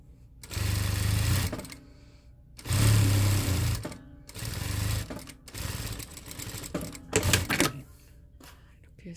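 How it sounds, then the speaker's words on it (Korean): Sewing machine stitching the front seam of a fabric face mask with a replaceable KF94 filter, running in several bursts of steady loud whirring separated by pauses, with a voice speaking between stitches. "요 앞부분 박음질 해놨고요."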